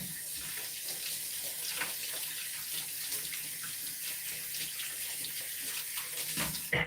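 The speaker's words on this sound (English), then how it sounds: "let me wash my hands" A tap runs steadily into a sink while hands are washed, a continuous close splashing hiss with small shifts in the flow throughout and no talking.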